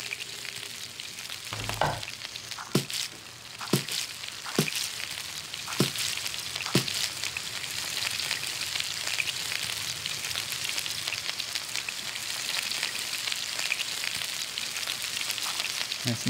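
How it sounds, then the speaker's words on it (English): Meat sizzles and fries in a pan in the cooking game Toca Kitchen 2, a steady crackling hiss throughout with a few sharp clicks and taps near the start. "Let's cook the meat."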